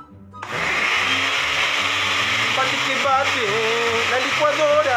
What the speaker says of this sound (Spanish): La licuadora.